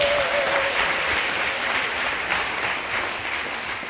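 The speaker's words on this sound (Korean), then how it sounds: "큰 박수로." A large audience at a Korean leadership lecture bursts into steady, dense applause, loud and close, filling the room for several seconds without any speech.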